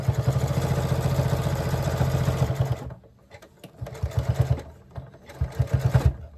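A zigzag sewing machine stitches binding onto a quilt, running in a steady fast rattle for a few seconds, pausing, then resuming in short bursts up close.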